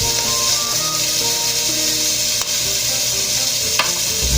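Onions and red pepper sizzling in a pan for vegetable lumpia, a loud steady frying hiss with scraping stirring strokes on top, close and alone without talk.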